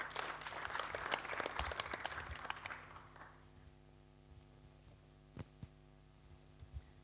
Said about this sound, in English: So a clap for our trainer,